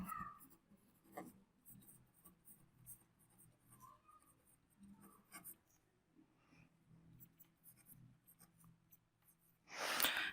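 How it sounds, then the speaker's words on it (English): A pen scratching out a polynomial on paper during a maths lesson, with short, irregular strokes and pauses, close and very quiet, and a louder rustle at the very end. "I will write the given polynomial."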